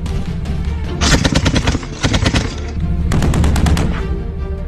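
Heavy machine gun fire at a shooting competition, bursts of loud rapid shots in two main volleys with a short pause between, over a steady low engine rumble.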